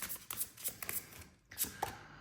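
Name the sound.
tarot cards being shuffled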